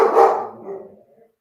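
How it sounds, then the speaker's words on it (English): A dog barks indoors in the room, one loud, close, full-throated bark followed by a softer trailing second yelp that quickly dies away. "I am so sorry about the dog."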